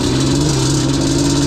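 A Yamaha Banshee two-stroke ATV engine bogs along at low revs in second gear, a steady, loud, close drone with a pronounced low hum that holds even throughout the short stretch.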